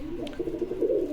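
A Brahma pigeon cooing at a pigeon farm in Bogura, a low, close, rolling coo that carries on steadily for a moment.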